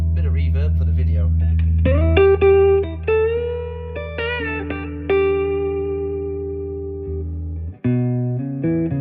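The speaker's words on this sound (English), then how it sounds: "I'll just put a bit of reverb for the video." A PRS electric guitar with soft pickups is played through reverb, with sustained chords and single notes ringing out and overlapping in a washy tail, close and clear with no talking.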